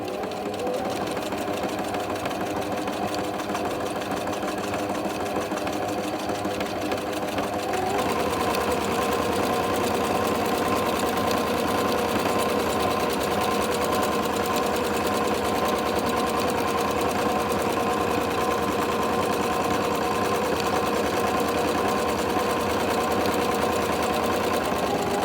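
Sewing machine stitching along the edge of a homemade cloth sanitary pad: a steady, close, buzzing mechanical whir with fast rhythmic needle clatter, running continuously and picking up slightly in speed partway through.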